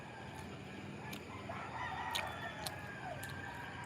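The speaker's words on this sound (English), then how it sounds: "I don't know why the rooster during this time 4 o'clock, why they actually clocking." Roosters crowing around 4 o'clock in the early morning, the calls faint and distant with a couple of louder bursts over steady background noise.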